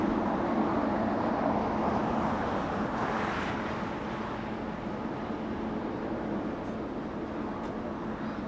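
A Spirit Airlines jet taxis across runway 25 Right on a taxiway at Los Angeles International Airport, a steady distant engine rumble and whine blended with airport background noise, no voices.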